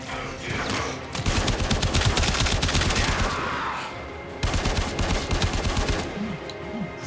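Rapid automatic gunfire from the video game Warframe rattles in two loud sustained bursts with a short gap between them, followed by a pair of softer electronic tones.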